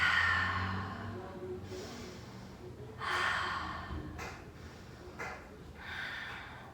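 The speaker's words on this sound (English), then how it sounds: "Find 3 steady breaths here." Breathing during an arm balance yoga pose, with a few slow, audible exhales and inhales spaced roughly a second apart, close and fairly soft, with no talking.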